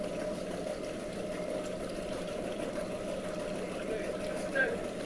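A cruising boat's twin engines idle and run in a steady low drone, with water churning alongside and a person talking over the engine noise.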